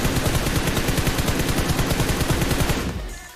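Rapid automatic gunfire from a video game shooter rattles in a fast, loud, continuous burst before cutting off abruptly near the end.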